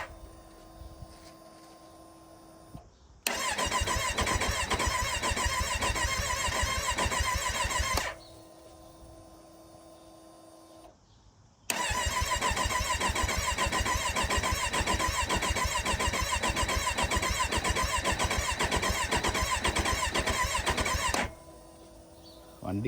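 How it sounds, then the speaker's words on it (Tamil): A Kawasaki Z900 motorcycle engine cranks but will not start, two long bursts of rapid rhythmic starter churning, each several seconds long, separated by quiet gaps, loud and close. "வண்டி கிராங்க் ஆகுது, ஆனால் ஸ்டார்ட் ஆக மாட்டேங்குது."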